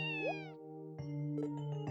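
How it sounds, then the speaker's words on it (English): A cat in the video game Trails From Zero gives a clear, close meow, then after a short pause a couple more brief mews over a steady low game hum. "A cat?"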